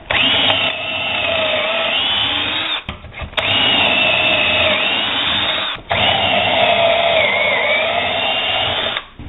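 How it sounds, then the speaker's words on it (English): A power drill whines loudly and steadily in two long runs, drilling pocket holes in wood for shelves, briefly pausing between them with a short mechanical clunk. "Now I'm going to drill pocket holes for the bottom of each shelf."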